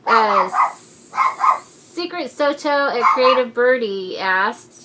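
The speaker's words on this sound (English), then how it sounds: "That was my dog." A pet dog barks in several sharp, high yips indoors, close and loud, overlapping someone talking.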